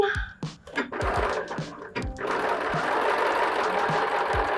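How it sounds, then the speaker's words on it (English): Sewing machine stitching pockets onto a fabric needle case with decorative thread, running in a steady whirring burst after a few short stop-start thumps near the start. "stitch our pockets on. I'm just using Deco Bob thread."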